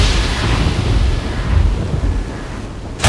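A thunder sound effect in a narrated children's story about a shoe rolls out as a loud, deep, rumbling crash with hissing, rain-like noise, sustained for about three seconds without speech.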